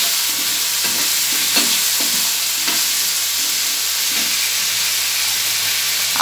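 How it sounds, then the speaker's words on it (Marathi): Vegetables sautéing with red chili powder and garam masala in a hot pan give a steady close sizzle and hiss, with soft scraping stir strokes at irregular intervals throughout. "थोडं लाल तिखट टाकायचे 2 चमचे, छान परतून घ्यायचे।"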